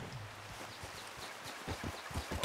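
Steady clip-clop of horse hooves trotting at a moderate pace, fairly close, with no talking over it, in the video game Red Dead Redemption 2.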